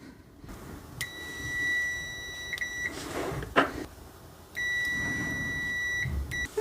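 A ZOYI ZT-R01 thermal camera multimeter gives two steady, fairly quiet continuity beeps, each holding for a couple of seconds, with faint handling clicks and rustle between them.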